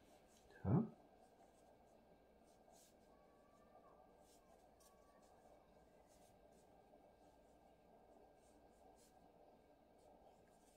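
Text written by hand, likely a pen on paper, as a steady soft scratching. It is faint and continuous, with a brief louder sound near the start.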